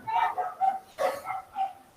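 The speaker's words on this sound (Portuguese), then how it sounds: "Deixa eu fechar a porta aqui, que o cachorro do vizinho" A neighbour's dog barks in a rapid series of about six sharp yaps, fairly close and indoors.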